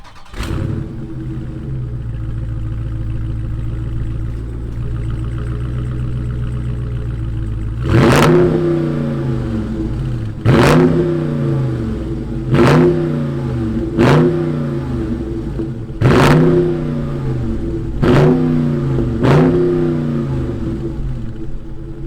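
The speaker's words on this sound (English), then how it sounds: "Let's fire up this muscle car and hear what it sounds like." A 2020 Dodge Charger Scat Pack Widebody V8 idles with a deep, steady rumble, then a series of about seven sharp throttle blips roar up and fall back, loud and close.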